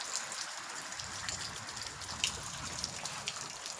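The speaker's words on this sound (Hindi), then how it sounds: "बारिश हो गई है बहुत तेज शुरू" Heavy rain pours steadily onto a roof and surrounding surfaces, a dense continuous hiss of drops with low rumbling splashes throughout, no voices.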